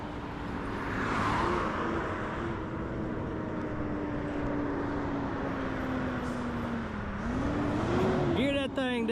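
A grapple truck rolls into a house demolition site with a steady engine drone and rising and falling tonal whine, loud and close throughout, with a brief sharper mechanical squeal near the end.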